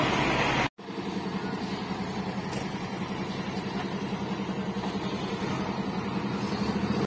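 A Shivshahi bus idles at the Lonar bus stand. After a brief cut, its engine gives a steady, near, low rumbling drone with an even pulsing throb that runs unbroken throughout.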